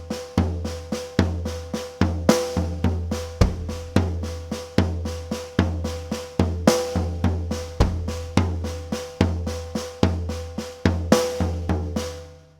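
A steady, busy Latin-style drum groove in sixteenth notes, crisp hi-hat strokes with punchy bass and snare hits repeating evenly throughout.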